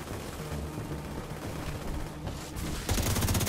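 Gunfire from the game Tom Clancy's The Division 2, during a Paradise Lost incursion, crackles in a dense continuous stream of rapid shots that grows louder near the end.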